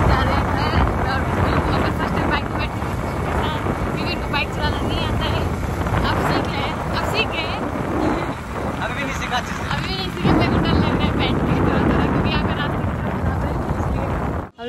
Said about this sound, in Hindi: यहाँ पे तो हवा भी चल रहा है